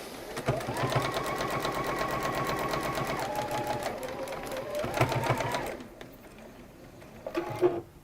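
A sewing machine stitches fabric in a workshop, its needle running in a fast, steady close-up rhythm that briefly slows and restarts and then stops, followed by a short final burst of stitching.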